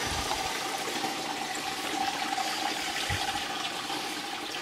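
Water gushes steadily down the drain of a stream table model of the Virginia Coastal Plain as the sea level is lowered, a continuous close rushing with no voices.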